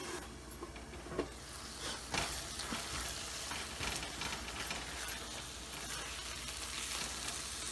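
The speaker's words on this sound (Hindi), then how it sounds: "थोड़ी सी देर और इसे पकाएंगे मीडियम हीट पर" Tomato chutney with dry spices cooking on medium heat, a low steady simmering sizzle with a few soft stirring knocks, faint and close, no talk.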